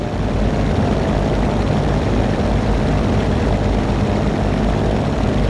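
Float plane propeller engine in the Prepar3d flight simulator during a landing in Puerto Rico, throttled back on approach, a steady loud broadband drone that holds constant throughout with no pauses.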